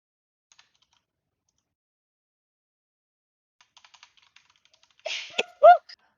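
A single person sneezes up close in a quiet room, a sharp double-burst coming after a few faint scattered clicks and taps.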